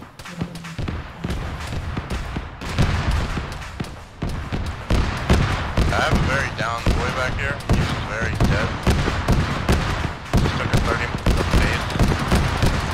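Rapid bursts of gunfire crackle and thump close by in a dense, continuous barrage lasting the whole stretch, with shouted voices faintly mixed in.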